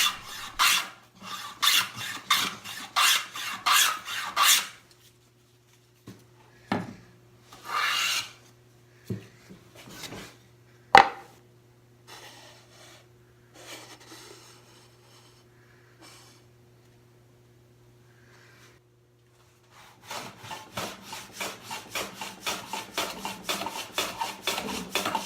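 A hand plane set to a heavy cut shaves a wooden Shaker nightstand part in repeated rasping strokes, bursts in the opening seconds and a fast rhythmic run at the end, with quiet gaps and a faint hum between.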